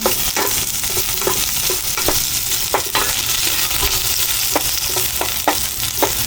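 Onion and garlic sautéing in a pan for a mussel dish, a steady sizzle with repeated scraping stir strokes at an uneven rhythm, close and loud, no talking.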